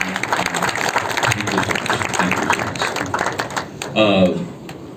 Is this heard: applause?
yes